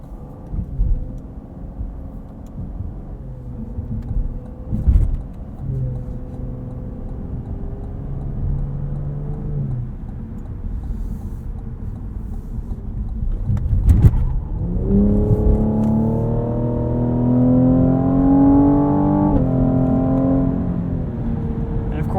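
A 2020 Cadillac CT5-V AWD sedan engine accelerates from inside the cabin, rising in pitch through several close gear changes of its 10-speed transmission, with brief clicks and some faint talk underneath.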